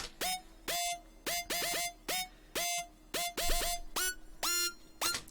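Aggressive, gritty dubstep lead synth stabs made in u-he Hive, with pitch bends, firing in choppy bursts and short repeated hits, loud and solo.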